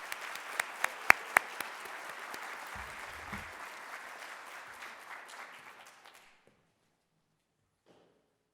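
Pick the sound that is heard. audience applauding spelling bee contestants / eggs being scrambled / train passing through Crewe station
audience applauding spelling bee contestants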